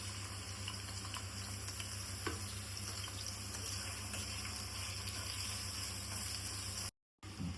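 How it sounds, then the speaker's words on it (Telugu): Chopped onions and green chillies sizzle in hot oil in a home kitchen, a steady close frying hiss running continuously with light stirring, briefly cut off near the end. "హీట్ అయిన ఆయిల్లో కట్ చేసుకున్న పచ్చిమిరపకాయలు అలాగే ఆనియన్స్ వేసుకుని"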